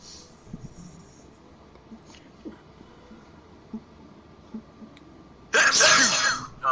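A single loud, sharp sneeze bursts out near the end after quiet room noise with faint clicks and breaths.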